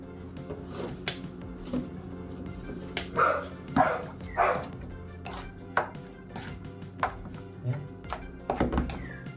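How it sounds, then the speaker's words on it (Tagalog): A dog eating close by, with scattered wet chewing and smacking sounds and occasional thumps, no talking. "Ito yung aso na matakaw na maarte."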